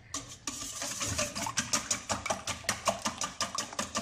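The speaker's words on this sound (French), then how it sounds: "On mélange bien." A spoon or whisk scrapes steadily through coconut flan mixture in a bowl, quick rhythmic strokes that grow regular and evenly spaced, close and clear with no talk.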